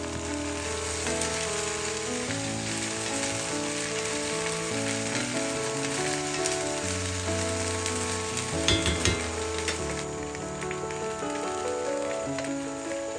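Okra (bhindi) sizzling and frying steadily in a pan on a home stove, a dense continuous crackle with occasional stirring and soft clatter, no voices.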